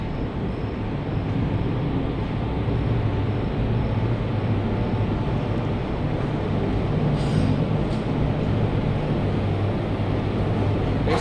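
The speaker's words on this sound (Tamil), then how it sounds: "இப்போ பக்கத்தில் ட்ரெயின் போகிற சவுண்டு உங்களுக்கு கேட்குதான்னு தெரியல, எனக்கு கேட்குது." A train rumbles past close to a lodge, a continuous heavy low roar that holds steady for over ten seconds with no talk over it.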